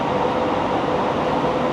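A steady loud rumble and hiss of a metro train at a station platform in Vietnam, continuous with no speech.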